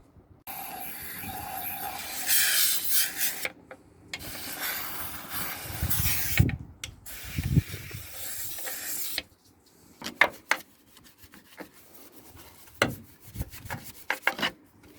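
A brush scrubbing dirt out of a car's plenum chamber drain hole, with long harsh rasping strokes at close range, then short scattered scraping bursts separated by pauses.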